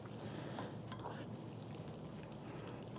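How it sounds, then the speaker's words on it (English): Meat being stirred in a pan of garlic sauce for shaking beef, giving a steady, continuous sizzle and soft scraping that runs close and fairly loud through the whole clip, with no talk. "Just going to stir this up"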